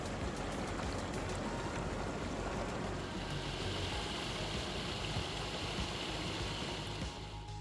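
Black River rapids rush over scattered rocks in a constant, loud, broadband roar with no voices, close by and unbroken throughout.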